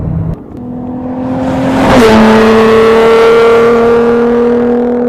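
A car fitted with a Borla exhaust revs up, its pitch sweeping upward before settling into a loud, steady high-rpm drone, close and alone without voices.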